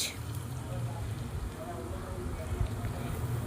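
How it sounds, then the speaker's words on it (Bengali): Finely chopped onions dropped into hot oil and ghee in a pan, a soft steady sizzle and crackle heard close but fairly quiet throughout. "তেলটা গরম হতে তার মধ্যে দিয়ে দিলাম কুচানো পেঁয়াজ"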